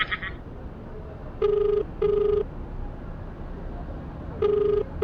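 A phone call rings unanswered: two short ringback tones in quick succession, a pause, then another, steady and fairly loud over a faint hiss.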